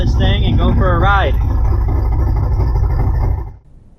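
A turbocharged Chevrolet C10 truck engine runs with a close, steady low rumble. Someone talks over it at the start, and the sound cuts out abruptly near the end.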